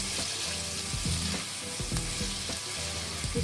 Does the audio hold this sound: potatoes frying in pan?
yes